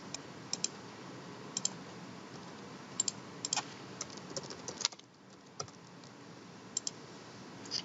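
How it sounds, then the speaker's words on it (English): Login credentials being typed on a computer keyboard: scattered light key clicks at an uneven rhythm over a steady background hiss, fairly quiet and close, with a short lull partway through. "enter your username and password and click Login"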